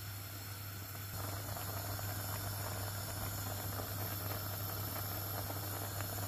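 A steady hiss with a faint bubbling texture, a Jaffna-style okra milk curry boiling in a pot, continuous and fairly close with a low hum underneath.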